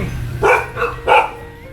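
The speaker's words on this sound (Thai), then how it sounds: "เขาเห่าทักกันแล้ว" Dogs barking to greet each other during a visit, two loud nearby barks a half second apart with quieter yips between, over a low background hum.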